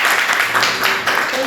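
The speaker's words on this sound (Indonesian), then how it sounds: "Beri tepuk tangan" Steady, dense applause fills a university teaching session for a lecturer certification exam, a loud and continuous wash of clapping for the full moment.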